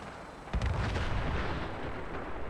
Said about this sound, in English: Big explosion, followed by a big explosion